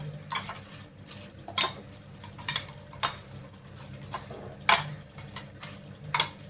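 Spices being stirred into crispy potato chips in a pan, giving a series of light scraping and clinking knocks of utensil against pan, spaced irregularly at moderate volume, with no talk.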